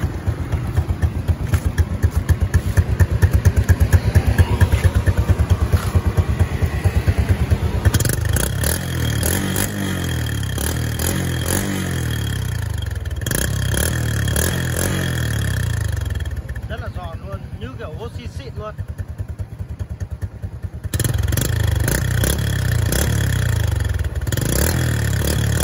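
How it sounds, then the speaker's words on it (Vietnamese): Honda Wave 110 motorcycle fitted with a Tan Hoa round-tip exhaust pipe, revved close by in repeated rising and falling bursts with a loud rasping exhaust note, while someone talks over it. "Giờ test tiếng bô 110 này."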